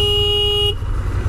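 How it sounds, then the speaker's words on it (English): A 2019 Ducati Desert Sled motorcycle sounds its horn once in a short, thin, steady tone lasting under a second, with engine and road noise underneath. "There's your test of the horn"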